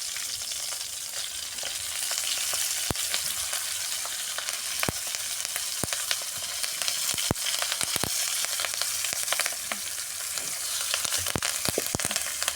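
Mustard seeds spluttering in hot oil for a fish curry, a dense continuous sizzle dotted with sharp pops and crackles throughout, close and steady.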